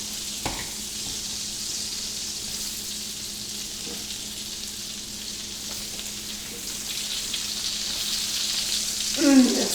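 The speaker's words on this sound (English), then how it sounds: "Throw our onions in." Onions fry in a pan beside mushrooms for a Philly cheesesteak, a steady close sizzle running throughout with faint stirring clicks and a small clatter near the end.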